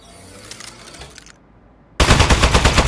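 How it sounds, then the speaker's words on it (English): An Aperture Science Turret opens fire in the game Aperture Desk Job: after a quiet stretch of light clicks and a brief silence, a loud rapid stream of shots kicks in suddenly and keeps going. "Presenting the Aperture Science Turret. Go on, take it for a spin."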